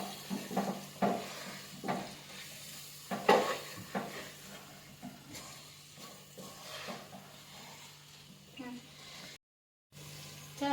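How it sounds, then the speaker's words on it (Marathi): Homemade masala with salt fries in a pan for a vegetable paneer pulao. The sizzle is quiet, broken by scraping stirs and clinks from the utensil, and a voice talks over it, with a short silent gap near the end. "आपण ह्याला देखील मस्त फ्राय करून घेणार आहोत।"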